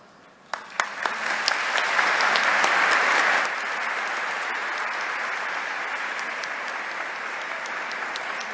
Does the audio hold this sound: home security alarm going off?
no